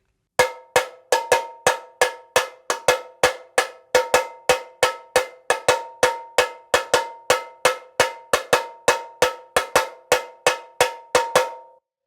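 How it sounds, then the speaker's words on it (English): A surdo played with a stick in a steady two-beat Brazilian pattern, about three crisp, bright strokes a second repeating evenly for over ten seconds, close and with no voices. "First, what I'll do is play you the pattern just with the stick"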